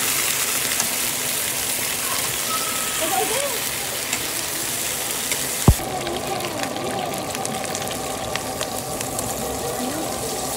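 Garlic sizzles in a hot pan for adobo while being stirred, a steady crackling hiss with a sharp clack of the utensil partway through and faint voices in the background.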